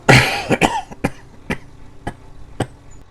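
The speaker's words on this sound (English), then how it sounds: "Coughing." A person coughing close by: a hard burst of coughs at the start, then a series of shorter, evenly spaced coughs that weaken over about three seconds, with no talking.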